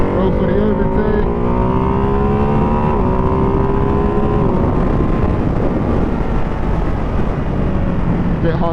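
Ducati Hypermotard 698 Mono single-cylinder motorcycle engine heard on a ride, loud and close with heavy wind noise, its pitch sweeping down through two downshifts before settling into a rougher lower drone.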